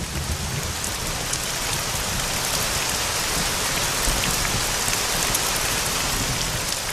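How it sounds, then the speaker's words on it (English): Heavy late-summer rain falls in the Velika Fatra and Mala Fatra mountains as a dense, constant hiss that stays loud and even throughout, with no distinct thunderclap standing out. "In late summer, the Velika Fatra and Mala Fatra mountains are frequently lashed by rain and thunderstorms."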